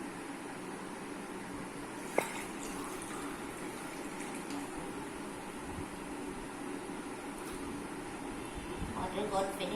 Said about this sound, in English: Now let's add the water again.